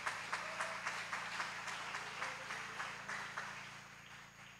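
Church congregation clapping in steady rhythmic bursts, moderately near with a hum underneath, the applause fading slightly toward the end.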